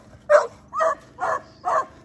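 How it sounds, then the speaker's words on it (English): A dog barks four times in a steady rhythm, each bark a sharp, fairly loud yelp close by, with brief quiet gaps between them and no talking. "show the dog."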